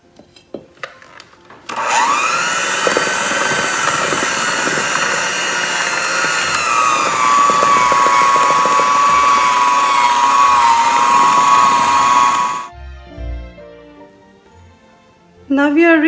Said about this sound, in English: Now we are reached up to the stage where you cannot use a hand blender anymore.